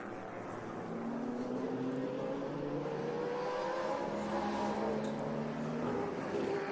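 Vintage race cars at the Monterey Reunion accelerate out of the last corner and roar past on the track, a loud sustained engine howl with rising and falling pitch as several cars sweep by close.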